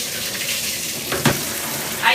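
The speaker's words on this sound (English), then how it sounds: "So I'm going to put some cold water" Cold tap water gushing steadily into a big bathtub for hand-washing delicate garments, a continuous close rush with a brief splashy swell near the middle and another toward the end, without talk.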